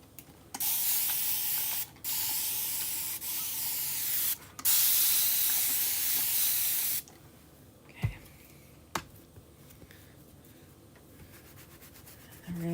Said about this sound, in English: Let's spray it down a little bit.